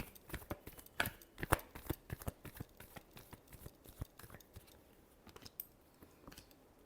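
Tarot cards being shuffled by hand during a reading: quick, soft riffling and tapping sounds in uneven bursts, fairly close and quiet, with no talking.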